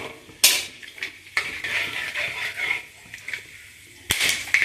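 Whole cinnamon and cardamom crackle and spit in hot oil in a pan while cooking kacchi chicken kosha, with scattered sharp pops and clinks of utensils over a steady low sizzle, loudest bursts near the start and end.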